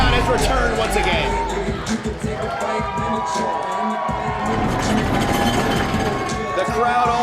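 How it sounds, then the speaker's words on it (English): Arena wrestling crowd roaring and cheering for a wrestler's entrance, a loud continuous wall of shouts and whoops with a commentator talking over it. "The crowd all jacked up to see Phil Brown"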